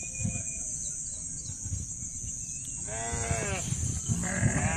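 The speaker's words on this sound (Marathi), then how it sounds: "इकडे एक मेंढका आहे बघा" Sheep bleat a few times at a herders' camp with huts beside a resting flock during a Balu Mama palkhi gathering. The calls are mid-distance and moderately loud over steady outdoor noise and a constant high whine.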